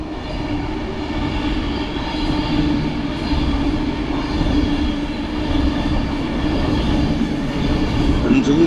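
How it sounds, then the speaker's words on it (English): A train rumbles steadily close overhead as a canal boat passes beneath the railway, with a continuous heavy roar and faint rhythmic wheel clatter throughout, no voices. "under the train we go"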